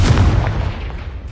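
A Confringo spell blast in a video game, a single loud, close booming burst that rumbles and decays over about a second.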